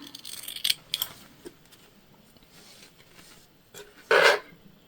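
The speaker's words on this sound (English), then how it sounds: "I'm gonna go ahead and just cut down the batting." Scissors trimming quilt batting while sewing a quilted pouch, a few close snips and rubbing passes on the fabric with a louder cut near the end, quiet room, no speech.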